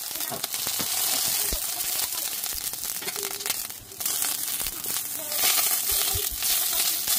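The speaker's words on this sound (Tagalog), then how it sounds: "Prito natin yung kalong." Loud, sustained sizzling and popping of food frying in hot oil while cooking beef kare-kare, close up, with occasional crinkling bursts and a brief dip midway.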